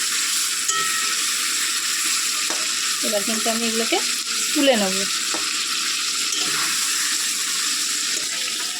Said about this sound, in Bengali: তো চলো আমার মাংসগুলো সবকটা ভাজা হোক